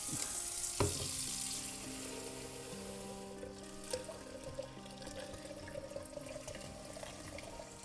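Rinse water for film developing runs from a tap in a steady, continuous stream with a sizzling hiss, broken by an occasional clunk and small splashes, moderately close and with no talking.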